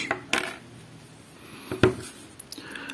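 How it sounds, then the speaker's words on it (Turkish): The cap comes off a black Lamy AL-Star fountain pen: a few small, sharp plastic-and-metal clicks heard very close in a quiet room, spaced apart with soft handling noise between them. "öncelikle kalemimizin kapağını çıkartıyoruz"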